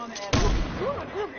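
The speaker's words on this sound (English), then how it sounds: "I broke that bookshelf." A bookshelf breaks in a video game with one sudden loud crash, followed by a few seconds of game noise and chatter with voices over it.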